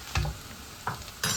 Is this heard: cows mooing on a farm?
no